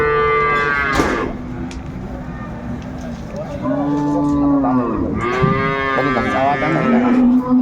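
A dairy cow and her calf moo repeatedly at a busy rural cattle market, several loud, drawn-out calls near and in the middle distance, with people talking over a crowd murmur.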